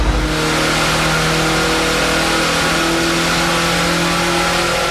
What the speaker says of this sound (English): On a standard engine, you start to rev